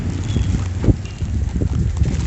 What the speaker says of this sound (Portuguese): Olha só a ventania